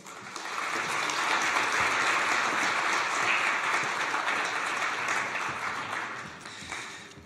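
A round-table audience at the Troyes and Aube chamber of commerce warmly applauds the arriving president, rising quickly to a sustained, even clapping that tapers gently toward the end.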